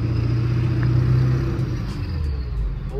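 A low-mileage Ford 7.3 Powerstroke diesel truck with a ZF5 manual transmission pulls through its gears, a steady low engine rumble that rises and eases as it shifts, with no talking.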